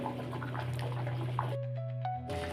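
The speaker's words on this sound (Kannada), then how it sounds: "ನೋಡಿ, ಈ ಥರ ಕುದೀತಾ ಇದೆ." Vegetable pulao simmering in a pot, soft irregular bubbling and faint drips under a steady tonal hum in a home kitchen.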